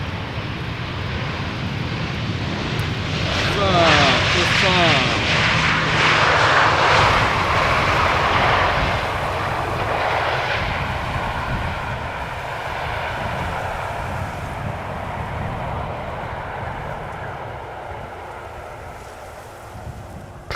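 A Transavia passenger jet arriving on Schiphol's Polderbaan on a hot sunny day, its engines roaring loud and broad as it passes, then fading gradually into a distant rumble amid wind.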